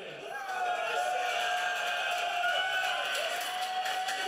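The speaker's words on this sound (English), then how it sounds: "Now give me a big cheer if you think Machine was the winner." A large audience at The International 2018 esports show cheers loudly in a hall, a sustained roar of voices rising and holding for several seconds.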